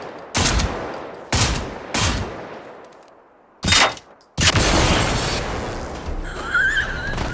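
Gunfire aimed at a robot in the video game Generation Zero: several loud, sharp shots spaced a second or so apart, then a sustained burst of firing with a whining tone near the end. No talk.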